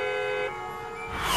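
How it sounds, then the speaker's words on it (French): Car horns honk in a New York traffic jam in a cartoon, sustained harmonic horn tones blaring together, shifting midway and swelling louder near the end. "klaxonne comme une personne civilisée"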